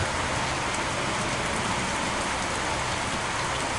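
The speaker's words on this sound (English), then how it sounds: "seeking shelter from the rain that has come." Steady, dense rain pours without a break, heard from the shelter of a front porch at an old frontier house at the Georgia Museum of Agriculture.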